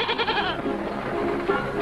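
A goat bleats insistently, one long wavering cry running into another, close and loud over a murmuring background.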